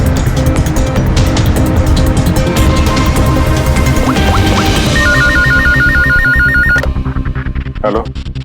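A telephone rings in a fast repeating electronic pattern, loud and close over dense, dramatic background music in a crime drama scene, then stops abruptly.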